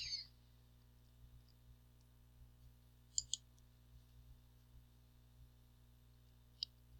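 A computer mouse gives a few faint, sharp clicks, including a quick double click, spaced apart against a quiet electrical hum.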